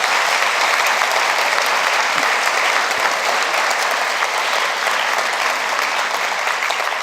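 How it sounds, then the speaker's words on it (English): Audience applause at a university Three Minute Thesis competition prize-giving, a dense, loud and sustained wash of clapping from a large crowd filling the room without a break. "You go on, you feel like clapping, don't you?"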